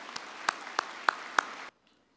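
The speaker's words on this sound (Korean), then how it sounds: "박수 한 번" Five sharp, evenly spaced hand claps ring out over a quiet hall at a 2017 Hanseo University freshman entrance ceremony. They stop abruptly and leave silence.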